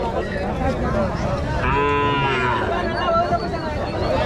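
A young bull calf at a Tamil Nadu cattle market gives one clear, loud moo in the middle of the clip, set against a busy market murmur.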